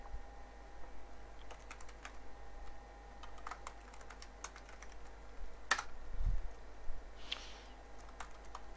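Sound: typing a password on a computer keyboard

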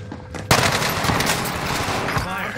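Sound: Cooper SMG gunfire in video game Warzone Rebirth Island

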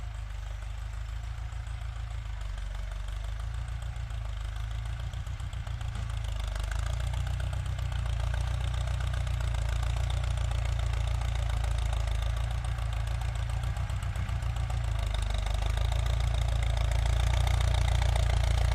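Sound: Ford 6640 tractor engine running at low revs

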